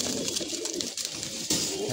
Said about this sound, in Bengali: এটা হচ্ছে একটা খাকি কবুতর